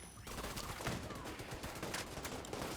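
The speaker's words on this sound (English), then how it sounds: "Who the hell is shooting at me?" Rapid bursts of gunfire in The Division 2 aimed at the player, dense overlapping shots from a firefight at moderate distance, steady throughout.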